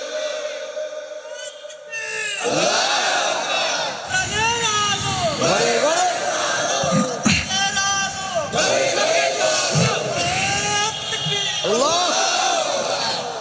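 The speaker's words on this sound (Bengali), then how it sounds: "একটু তাকবীর দিয়ে দেখান লিল্লাহি তাকবীর।" A large crowd at an Islamic religious gathering chants takbir, Allahu Akbar, in loud repeated waves of massed voices, with a leading shout and a roaring collective response filling the space.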